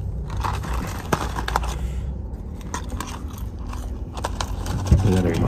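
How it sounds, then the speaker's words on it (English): Someone bites and chews Burger King spicy chicken fries up close, giving repeated crunches and soft chewing with a few small scrapes. "I eat my fries too."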